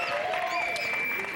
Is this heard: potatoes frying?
no